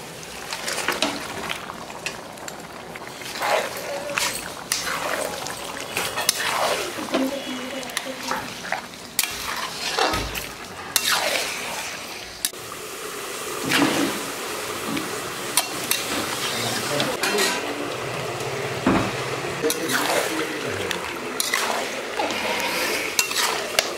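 Mutton pieces added to a pan of salted, fried-down spices and stirred, with steady sizzling, frying and repeated scraping of a utensil against the pot throughout, close and fairly loud, no talking.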